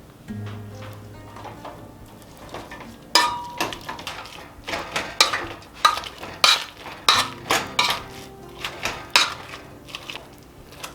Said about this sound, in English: I'm just going to take my handy dandy masher and mash the potatoes